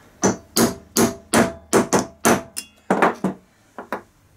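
Sharp hammer taps on a Mitsubishi/Mazda alternator under repair, about ten close, loud strikes in a loose steady rhythm with short pauses, no voices.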